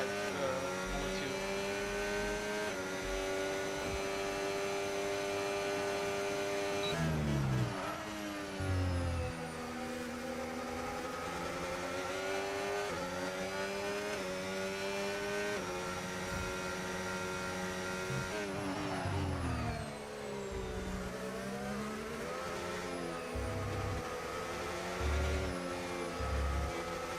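F1 race cars on the Abu Dhabi circuit in a racing video game, a continuous high-pitched engine whine with rising and falling revs as gears shift, loud and close throughout.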